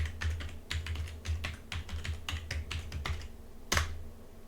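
Password keystrokes tapped out on a computer keyboard during a Windows Server 2022 setup, a close, irregular run of about a dozen clicky presses followed by one sharper final key strike.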